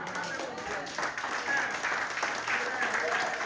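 A church congregation claps steadily throughout, a dense patter of many hands at moderate loudness, with voices mixed in underneath.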